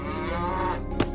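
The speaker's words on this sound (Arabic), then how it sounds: "وما أن جلس جحا يحاول حلب البقرة حتى رفست" A cow in a barn lets out a single loud, drawn-out moo that fills most of the short moment, alone and close by.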